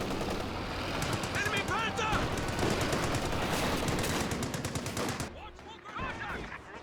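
An MG34 machine gun firing in a video game, its rapid bursts of shots rattling loudly and steadily for about five seconds, then thinning out, with a voice talking over part of it.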